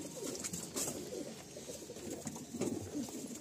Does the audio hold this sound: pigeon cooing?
yes